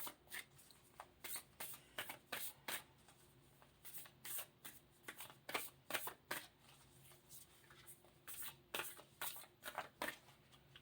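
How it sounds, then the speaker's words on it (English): Work Your Life Oracle cards being shuffled by hand, a quick series of crisp riffling bursts and soft slaps in an uneven rhythm, close and fairly quiet with no talking. "we're going to start with the Work Your Life Oracle cards"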